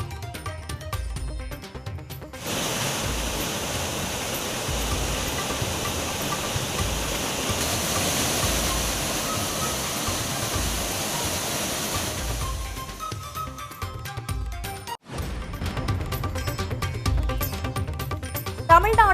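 Heavy rushing water of the Aliyar Kavi Aruvi waterfall in the Western Ghats, flooding after heavy rain, a dense steady roar lasting most of the stretch, briefly dropping out near the end before resuming.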